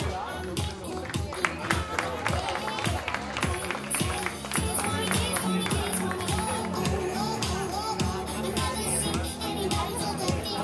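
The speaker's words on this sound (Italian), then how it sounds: "Facciamole un applauso." Audience applause and clapping for a young contestant at a Miss Mondo beauty pageant, a steady dense patter of many hands filling the hall, with crowd noise and voices mixed in throughout.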